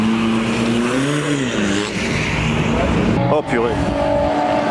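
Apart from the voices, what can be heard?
noisy 1.9 TDI car in a drag race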